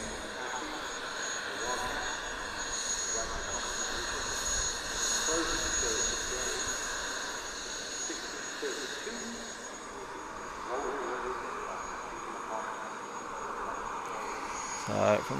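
A Bombardier Global 8000 business jet at Farnborough Airshow positions for departure, its engines a faint, distant, steady whine under a commentator's voice and crowd ambience.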